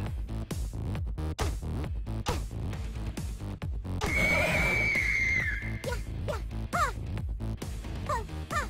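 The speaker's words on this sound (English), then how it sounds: "I couldn't hear that one over that fucking horse" A horse in a video game lets out a long, shrill whinny that rises and trails off, close and loud over dense game sounds with rapid clicks and other animal calls.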